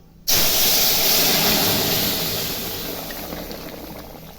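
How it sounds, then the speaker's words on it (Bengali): Hot spiced tempering hits a pot of lentil dal cooked with ash gourd, bursting into a sudden loud hiss and steamy sputter that slowly fades over a few seconds. "এখন ডালটা সম্বারা দিচ্ছি।"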